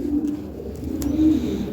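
Lahore Siraji pigeons coo in a steady, low, close murmur that runs unbroken through the short stretch, with a couple of faint higher chirps over it.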